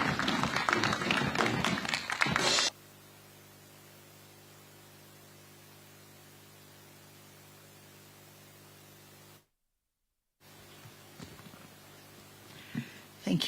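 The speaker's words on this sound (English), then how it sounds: "please welcome her with a warm clap." A burst of dense applause from an audience welcoming a keynote speaker, about two seconds, then it cuts to near silence with faint hum, a gap, and a few soft taps later.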